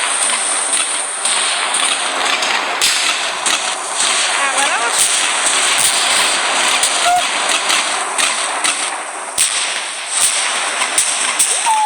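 Fireworks bursting in a fireworks video game for 2022, a dense run of sharp crackles and pops with whistling streaks over a constant hiss, loud and continuous for about twelve seconds.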